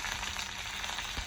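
Chana dal, mustard seeds, cumin and peanuts crackle and sizzle in hot oil as a tempering, a steady close frying hiss without speech.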